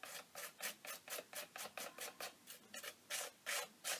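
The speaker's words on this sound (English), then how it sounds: "really scraping a lot of it off the surface, just leaving that flat" A tool scrapes a thin layer of paint off an altered book page in rapid, even rasping strokes, about three or four per second, close and crisp with no talking.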